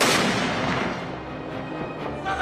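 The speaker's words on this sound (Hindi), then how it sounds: "जनरल बिपिन रावत को 17 तोपों की सलामी दी गई।" Artillery fires a 17-gun salute at General Bipin Rawat's funeral, a loud booming blast that opens the moment and then rolls off into a long echoing rumble.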